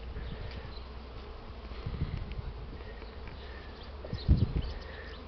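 Honeybees buzz in a dense, continuous hum around a spring apiary during a strong orientation flight on a warm +20 degree day, a faint swarm drone with occasional louder bees passing close, no voices.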